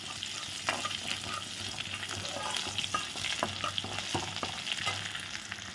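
Chopped garlic and cumin seeds sizzle in hot oil for keerai poriyal, a steady close frying hiss broken by sharp scraping clicks of a spatula stirring against the pan.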